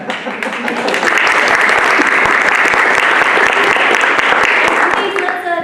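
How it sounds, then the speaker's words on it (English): An audience breaks into loud, dense applause that swells within the first second, holds strong and sustained, then tapers slightly near the end. "Please let's give a round of applause for Randy as well."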